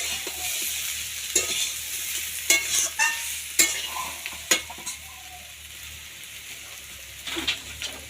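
Amaranth stems and potatoes frying in a curry for a Bengali data jhol, a steady soft sizzle broken by several sharp clacks of a spoon stirring against the pan, close by and with no talking.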